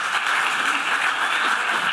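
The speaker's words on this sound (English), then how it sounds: "So can we wish her happy birthday and give her a round of applause?" Steady, even applause from a climate summit audience celebrating an 18th birthday, a continuous wash of many hands at moderate loudness without distinct individual claps.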